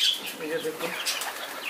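Domestic pigeons flap their wings as they land to feed; the short, soft flutter of wingbeats comes close by while someone speaks briefly over it.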